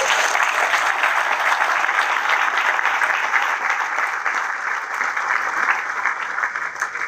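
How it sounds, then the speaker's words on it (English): Crowd at an outdoor military change-of-command ceremony applauds the soldiers on the field, a loud, sustained wash of many hands clapping that runs steadily for several seconds with no talk. "please give them a round of applause."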